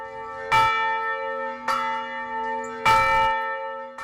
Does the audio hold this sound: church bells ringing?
yes